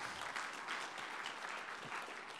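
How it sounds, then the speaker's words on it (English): Audience applause at a sales training session, a steady wash of clapping at moderate distance, fairly faint and continuous with no one talking. "Give her a round of applause"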